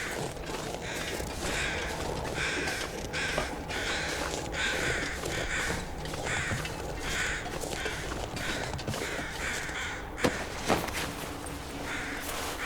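Crows caw repeatedly in a steady rhythm inside the survival video game The Long Dark, over a constant windy ambient bed.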